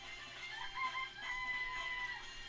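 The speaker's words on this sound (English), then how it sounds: "I remember there were some chickens in the chicken coop." Chickens cluck and crow in a coop in the video game Danganronpa, a continuous busy layer of overlapping bird calls at moderate level with no talk.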